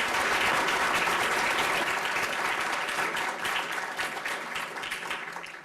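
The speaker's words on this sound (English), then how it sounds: "Can we please have another round of applause for all of our contestants today?" An audience at the 2019 Jefferson Three Minute Thesis Competition gives the contestants a sustained round of applause, dense clapping that tapers off slightly toward the end.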